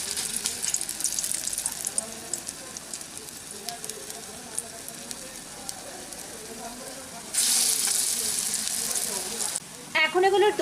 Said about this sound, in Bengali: এবারে এই মিশ্রণটাকে নিয়ে এইভাবে চ্যাপটা করে কোপ্তার মতো করে এর মধ্যে ভাজার জন্য দিয়ে দিচ্ছি।